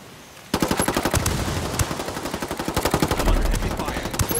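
Gunfire and machine gun bursts from the tactical shooter Ghost Recon Wildlands begin abruptly after a brief quiet lead-in, then continue as rapid, loud, rhythmic automatic shots with heavy low thumps near the end.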